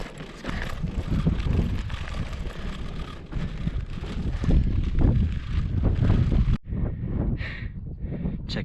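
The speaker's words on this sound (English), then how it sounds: "But you probably didn't hear any of that because it's windy." Strong wind at 4,000 meters altitude while mountain biking in Nepal, buffeting the microphone in a loud, continuous low roar that surges and eases, then cuts out briefly before softer gusts return.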